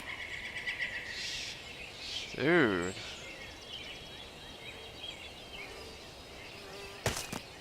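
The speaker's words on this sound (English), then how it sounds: "All you hear is fucking birds." Ambient birds chirp in the game Final Fantasy XIV: faint, scattered tweets over a soft outdoor backdrop, with a man's short exclamation near the start and a sharp click near the end.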